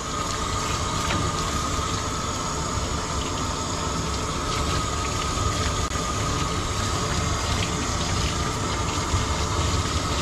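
Water streams steadily over a Pomeranian during a bath, a constant loud rushing spray that runs without a break throughout.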